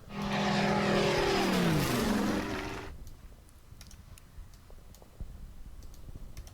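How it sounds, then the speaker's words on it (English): Propeller airplanes in the Order of Battle Pacific strategy game sweep past with a loud, falling drone for about three seconds, then cut off, leaving faint clicks and quiet background. "I'm mainly using my airplanes as scouts at the moment"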